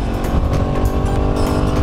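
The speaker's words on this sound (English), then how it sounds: "you just give it a quick blip and shift it to a lower gear" A motorcycle engine runs loud and close, a steady rumbling drone during a quick throttle blip to downshift to a lower gear.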